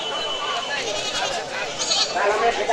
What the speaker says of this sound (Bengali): এই দেখেন অসংখ্য ছাগল